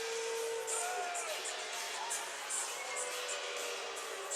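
Crowd in a minor-league hockey arena during a Mayhem versus Fayetteville Marksmen game reacts to a penalty call with a steady, distant wash of booing and jeering voices, faint and continuous throughout.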